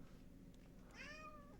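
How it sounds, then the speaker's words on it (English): A house cat gives a single rising-then-falling meow near the end, fairly close and clear over a quiet room hum. "What do you want, cat?"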